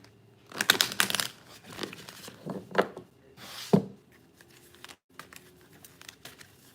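Oracle cards are shuffled by hand close up, giving irregular crisp papery bursts and riffles separated by short quiet gaps.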